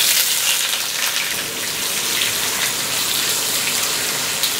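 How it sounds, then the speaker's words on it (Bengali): Chopped onions sizzling in hot oil with cloves and a bay leaf, a steady, dense crackling hiss that stays even and close throughout with no talk. "পেঁয়াজটাকে হালকা একটু ব্রাউন করে ভেজে নিতে হবে"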